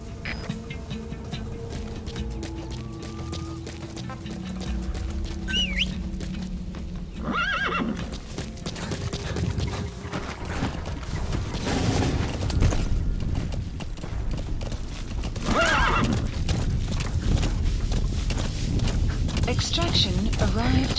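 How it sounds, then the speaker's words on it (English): A horse's hooves clop along while it whinnies and snorts, layered with Metal Gear Solid V game sound effects and a voice talking over it. "Use your horse."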